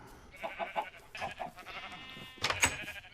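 Video game sheep on a farm bleat in a few short, close calls, with one bleat early, another near the middle and a louder one at the end, and no talk over them.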